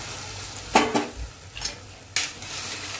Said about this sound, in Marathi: छान फोडणी बसली याला,